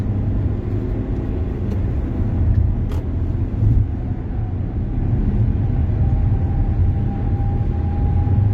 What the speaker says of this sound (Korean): 그래서 또 풀악셀을 한번 해봐. 잘 밟히는지.